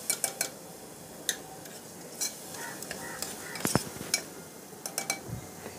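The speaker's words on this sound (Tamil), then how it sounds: "அதை இதோட நல்லா மிக்ஸ் பண்ணிக்கிறோம்." A spoon stirs yogurt into masala in a pressure cooker for homemade egg biryani, giving scattered metallic clinks and scrapes against the pot at an uneven rhythm, close by and fairly quiet.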